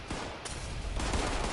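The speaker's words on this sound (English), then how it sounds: "let's test out the new shotgun." Shotgun fire in a video game: a few booming blasts in quick succession over continuous loud game noise, close and heavy, with no talk over it.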